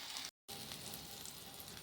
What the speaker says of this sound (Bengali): পটল আলু একসাথে আমি ভেজে নিই